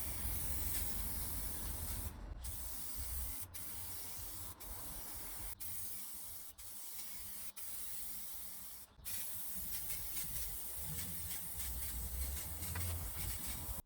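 A wet coat of spray paint going onto plastic car bump strips, steady aerosol hissing in several long bursts separated by short pauses, close and alone.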